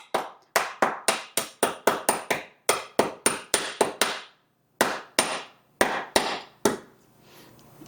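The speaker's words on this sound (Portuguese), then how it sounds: "quebra todas as suas balinhas" A small hammer crushes peppermint candies inside a ziplock bag in a kitchen, striking in quick, sharp, close knocks in rapid bursts of about twenty blows with brief pauses between runs.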